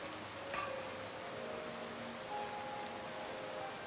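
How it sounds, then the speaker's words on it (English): Steady, soft rainfall in Skyrim fills the scene with a continuous even hiss of drops, faint and unbroken, with no voices over it. "Let's see if we can clear up this rain."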